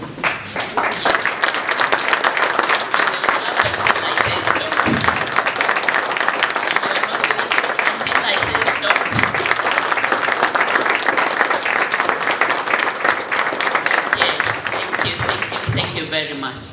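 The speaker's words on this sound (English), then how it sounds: "we allow them to stand and then we applaud them." An audience at the RVTTI 11th International Conference in 2023 gives conference innovators sustained applause: a dense crowd clapping steadily for many seconds, with a voice speaking over it.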